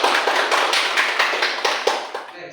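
Classroom students clap their hands in a quick, fairly regular rhythm of about a dozen sharp claps, close and clear, ending abruptly.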